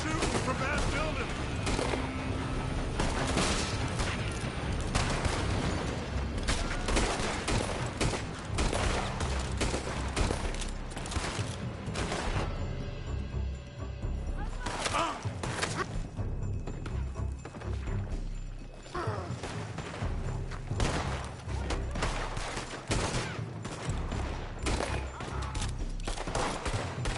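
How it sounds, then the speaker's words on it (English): Gunfire rings out from a building in Red Dead Redemption 2, a long barrage of loud, overlapping shots and volleys with hoofbeats and shouting voices mixed in, dipping briefly before picking up again. "They're shooting from that building!"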